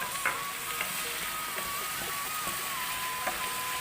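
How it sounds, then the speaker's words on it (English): Prawns fry with caramelized onions in a pan, a steady close sizzle and crackle running throughout with occasional faint stirring taps. "Fry the prawns for 2-3 minutes minimum"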